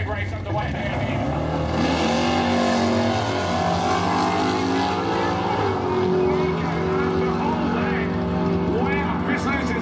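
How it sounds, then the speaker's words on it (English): A Chevrolet Camaro and rival cars launch at the start of a drag race at The Bend, engines roaring loud and continuous with rising revs under an announcer's steady commentary. "let's get this drag race underway down here"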